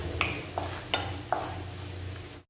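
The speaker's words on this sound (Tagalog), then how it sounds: "Inuuna ko mga ka-recipe yung garlic. Medyo pinotoasted natin." Garlic toasting in a hot pan for a Filipino chicken liver guisado, a steady close sizzle with a few clinks of a utensil stirring against the pan, ending abruptly.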